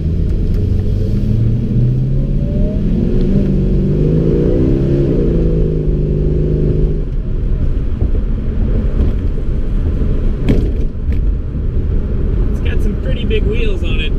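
A 1961 Jaguar Mark II fitted with a Chevy V8 pulls away with a deep rumbling engine note that rises and shifts as it accelerates, then settles into a steady drone of road noise.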